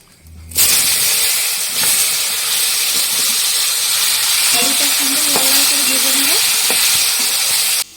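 Cumin and bay leaves crackle in hot oil as potatoes are dropped into the pan, a loud, steady frying hiss that starts suddenly and continues with light pops and a brief scraping clatter midway.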